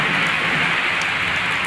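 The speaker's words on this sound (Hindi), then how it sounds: "आप तो देख ही रहे हैं कुछ दिनों से कितनी बारिश हो रही है" Steady, loud rain falling outside a home during days of heavy rainfall, a continuous even hiss with scattered drops and no pauses, heard close.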